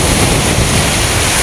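Sea waves wash onto a wide sandy beach in Bawang, La Union, a loud, continuous broadband rush dominated by wind noise on the microphone.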